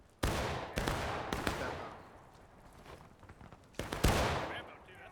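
Musket fire in the video game War of Rights, a Civil War battle with many players: several loud, sharp shots come in an irregular cluster, then a quieter stretch of distant noise, then two more close blasts.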